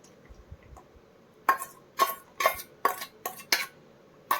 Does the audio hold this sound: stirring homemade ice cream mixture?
yes